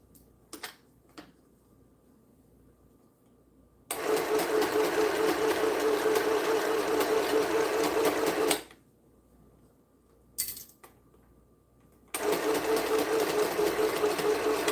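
Sewing machine stitching quilt pieces runs in two steady bursts of rapid, even mechanical whirring, separated by quiet pauses filled with faint handling clicks.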